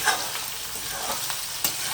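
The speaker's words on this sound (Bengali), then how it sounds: "এবার সব সবজি একসাথে একটু ভালো করে ভেজে নিচ্ছি" Mixed vegetables for veg biryani sizzle steadily in a hot pan, with a few brief scrapes of stirring breaking through the constant crackle.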